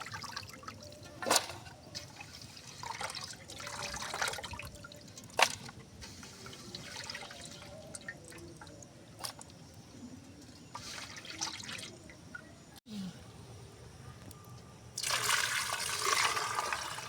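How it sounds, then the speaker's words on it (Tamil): Sea crabs being rinsed in water with rock salt, giving a continuous wet swishing and trickling with scattered splashes and drips, then a louder rush of water near the end. "கல் உப்பு போட்டு அலசிக்கலாம்."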